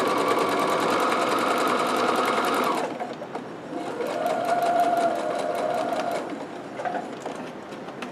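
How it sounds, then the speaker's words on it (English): Domestic sewing machine stitching fabric for a locker caddy, running in a steady loud whir that stops briefly at a corner pivot and then resumes at a slightly different pitch, with no voices. "lift the presser foot lifter, turn the fabric, put the presser foot lifter down, and I'll keep sewing."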